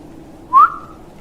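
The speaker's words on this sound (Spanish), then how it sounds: "otra vez me silbaron" A single short rising whistle, like a person whistling to get attention along a dark highway at night, sharp and fairly close against faint background hiss.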